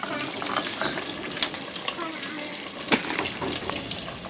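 Fish sizzling and frying in hot oil in an outdoor kitchen, a steady crackling hiss with small pops and stirring sounds throughout, close and fairly loud.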